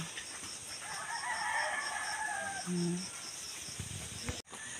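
Chickens cluck and call amid steady outdoor background noise, moderately distant, with a brief low honking cry, likely a goose, partway through.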